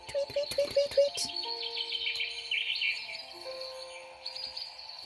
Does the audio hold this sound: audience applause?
no